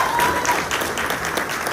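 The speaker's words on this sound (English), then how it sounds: "Let's give him a round of applause." An audience at Corona's State of the City morning event gives a short, steady round of applause, dense clapping heard fairly close with no speech over it.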